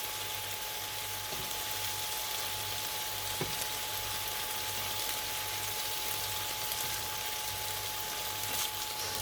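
Chicken breasts for honey mustard chicken sear in a hot pan, a steady close broadband sizzle and hiss holding level throughout with a faint low hum beneath and no talk.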